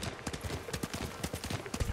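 A horse gallops in the Ghost of Tsushima video game, its rapid rhythmic hoofbeats drumming steadily and close throughout over a faint background.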